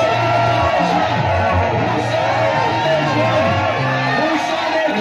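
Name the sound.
crowd shouting cries of joy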